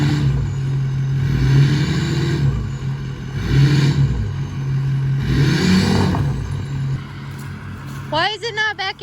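Stuck truck's engine revving in repeated surges while the driver tries to back it up on a camping trip, loud and close, with people talking over it.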